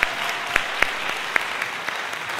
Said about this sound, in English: Let's give another big round of applause to our symphonic band.